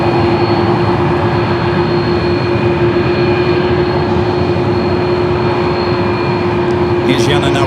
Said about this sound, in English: Also have a loud Delta A330 on Echo.